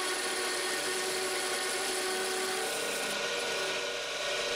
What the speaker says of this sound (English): I will use the bedan to reduce the diameter down to around 23 millimeters